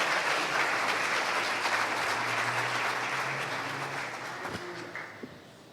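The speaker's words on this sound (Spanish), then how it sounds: "Dele fuerte el aplauso al Señor." Church congregation applauding steadily for several seconds during a sermon, a dense continuous clatter of claps that gradually fades out at the end.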